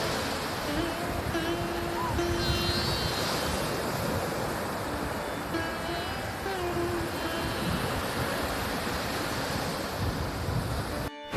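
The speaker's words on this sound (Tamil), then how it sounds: "இந்த இடத்துல அலைகள்லாம் ரொம்ப பெருசாக இல்லை, கொஞ்சம் ஒரு நார்மலான அலைகளாக தான் இருக்குது" Sea waves wash steadily onto a sandy beach at Nagore, a continuous broadband surf roar with gentle swells, while a faint voice talks intermittently in the background.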